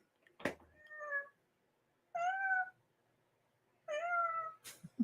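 A pet cat meowing indoors, three separate drawn-out meows spaced a second or two apart, close and clear with quiet gaps between them.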